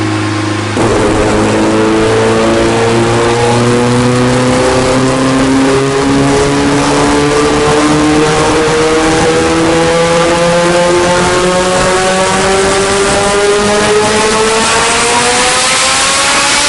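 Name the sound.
Mitsubishi Evo engine revving during a high-power pull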